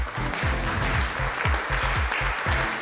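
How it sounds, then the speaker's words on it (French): An audience at a fashion show applauds in a continuous rush of clapping, with deep rhythmic thumps beating underneath. "Un tonnerre d'applaudissements pour ce ventre plat."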